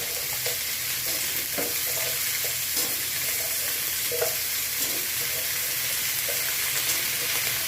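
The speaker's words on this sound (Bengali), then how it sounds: "আলু, বেগুন, মিষ্টি কুমড়ো, তারপরে মূলো, সিম সব সবজিগুলোকে আমি এর মধ্যে এখন লাল লাল করে ভেজে নেব।" Potato, eggplant, pumpkin, radish and beans fry in oil in a pan, giving a steady, loud close-up sizzle. Intermittent stirring clatters and scrapes run over it.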